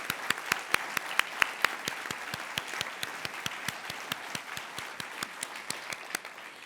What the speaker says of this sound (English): We'd love to give you a round of applause.